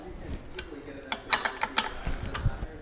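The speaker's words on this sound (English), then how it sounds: "Then use the closed end of your 15 millimeter wrench. Apply tension evenly on each side" A 15 millimeter wrench tightening a bolt during bicycle wheel assembly, giving a quick run of close metallic ratcheting clicks and clanks in the middle.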